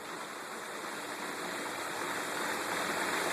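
Water rushes steadily through a Hayward S220T sand pool filter set to rinse with fresh sand, a constant loud hiss-like flow that holds unbroken and swells slightly toward the end, with no voices.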